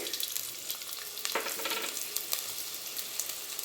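Fenugreek seeds, fennel, cumin, garlic and pepper sizzle and fry in hot oil for a tomato kurma, a soft, steady crackle with brief stirring scrapes, close by and fairly quiet, with no talking.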